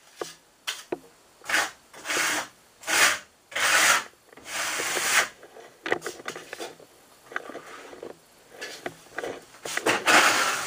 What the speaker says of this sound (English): You can tell by the sound of my trowel that there is a good amount of grit in that prep coat